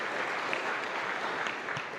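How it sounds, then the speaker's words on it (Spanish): A congregation at a Catholic Mass in a chapel in Luque claps in a steady, continuous round of applause that fills the space evenly. "Un fuerte aplauso para los jóvenes,"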